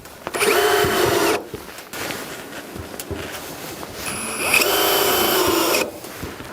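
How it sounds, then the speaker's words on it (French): A power drill drives screws into a corrugated roof sheet on a garden shed, two long loud whirring bursts separated by quieter handling and clatter. "je mets des vis comme ça tout le tour. Et ensuite, je visse une onde sur 2"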